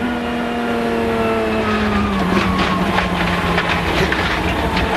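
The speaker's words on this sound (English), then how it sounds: "When he knew he was going off the road, he backed off to an even throttle." Onboard a sports prototype race car at the 2006 Petit Le Mans, running off the track at turn 1: a loud, close engine holds an even throttle, its droning pitch easing down partway through against steady rumble and wind.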